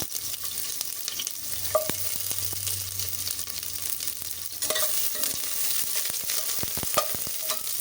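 Onions cook in a pan for country-style boti gojju, a low steady sizzle broken by sharp spatula taps and scrapes against the pan at irregular intervals.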